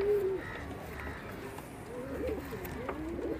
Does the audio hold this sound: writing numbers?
no